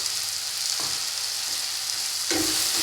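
Ground coriander, cumin and turmeric powders are stirred into a sizzling mixture for palak chicken curry. A steady, close frying hiss runs throughout, and a spoon scrapes through it twice.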